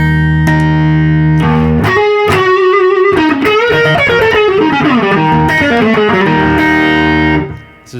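Clean-channel electric guitar played through the Duellist dual overdrive pedal on its Drive A side, a loud solo phrase of ringing notes and chords with sustained tones, no voices over it.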